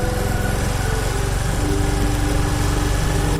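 A boat engine runs on a river, idling steadily with an even, throbbing mechanical drone, loud and close, with no talk.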